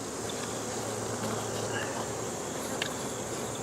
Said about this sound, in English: worker bees, field bees, ain't paying any attention to me. They're bringing in pollen and nectar.